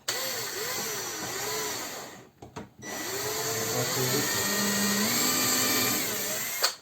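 A power drill bores a hole in wood in a carpentry workshop, a steady loud motor whine that cuts out briefly midway, then resumes and holds to the end.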